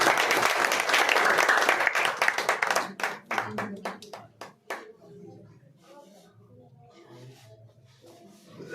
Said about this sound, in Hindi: पूरा तालियों से स्वागत करें इस बच्चे का।